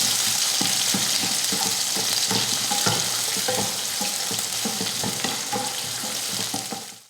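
Onion, garlic, mustard seeds, urad dal and curry leaves sautéing in hot oil, a steady close sizzle and crackle with faint stirring clinks throughout.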